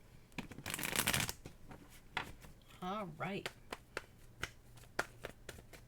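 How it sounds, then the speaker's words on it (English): Cards are riffled and shuffled in quick, crisp bursts with scattered taps and snaps, and a voice speaks briefly in between. "One more shuffle, Cancer reading."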